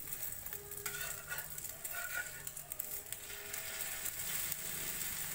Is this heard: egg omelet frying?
yes